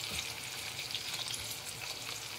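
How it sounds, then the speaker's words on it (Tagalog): Tomatoes sautéing in a pan for dried fish escabeche, a constant close hiss of oil with small crackles throughout, steady and unbroken, no voices. "hayaan natin igisa ang tomato hanggang mag-translucent po siya"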